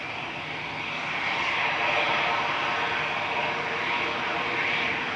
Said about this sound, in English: Finnair 1366 heading off to Helsinki next. This is OHL-XM, an A320 Classic, 21 years old.